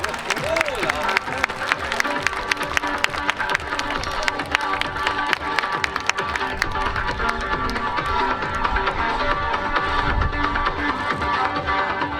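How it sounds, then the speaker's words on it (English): A crowd at Iwakuni Friendship Day 2018 gives dense, continuous applause and cheering for parachutist Sergeant Morgan George, the clapping steady and fairly loud with a voice carrying over it. "Give him a big round of applause."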